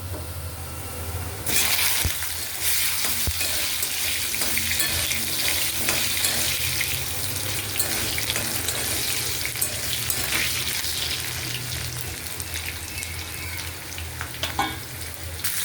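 Potatoes fry in a pan with a loud, steady crackling sizzle, broken by occasional sharp clinks of a utensil stirring.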